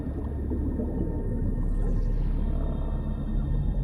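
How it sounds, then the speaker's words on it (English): Underwater humpback whale calls, long tonal moans and groans layered over a dense low rumble of ocean water, continuous and fairly loud, with no voices. "It's the humpback whale."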